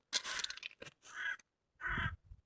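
A crow out in a forest caws close by, giving three harsh, raspy calls with brief pauses between them and a short extra croak near the start.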